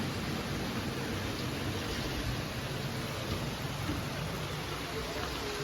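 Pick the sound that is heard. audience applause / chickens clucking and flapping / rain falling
rain falling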